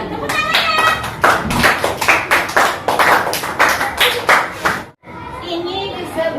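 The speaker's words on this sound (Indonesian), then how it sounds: "Ya, tepuk tangannya." Children in a classroom clap together in a rhythmic, patterned burst of close, loud applause that stops abruptly, followed briefly by children's voices.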